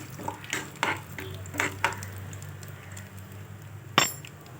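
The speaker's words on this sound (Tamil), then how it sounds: "உளுந்து நல்லா பொன்னிறமாக லைட்டாக வறுபட்டு வரட்டு கிளறி கொடுத்துக்கலாம்" Urad dal roasting in oil in a pan for onion chutney, stirred with a spoon in several scraping strokes over a low steady sizzle, ending in one sharper clink against the pan.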